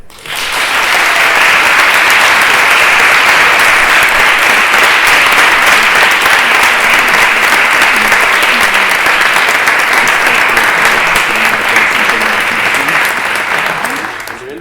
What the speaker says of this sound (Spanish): quiero pedir un fortísimo aplauso